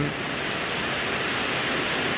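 Steady rain pours down in a village in Laos, a dense unbroken hiss of drops spread evenly throughout, close and moderately loud, with no voices.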